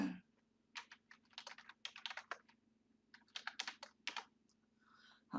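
Computer keyboard typing a name into a form, several rapid clusters of crisp keystrokes separated by short gaps over a low steady hum, close and fairly quiet.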